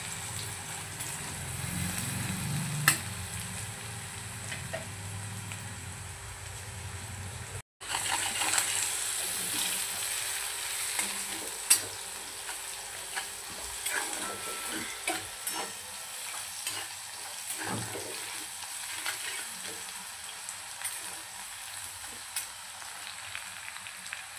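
Chopped onions fry and sizzle steadily in oil for a Maharashtrian chicken alani curry, with occasional stirring scrapes and clinks in the pan, close and continuous with no talking.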